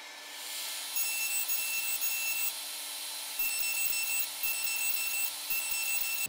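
Fine hand saw cutting through a small piece of wood clamped and wedged for a tiny box, with rapid, rhythmic rasping strokes, close and steady throughout.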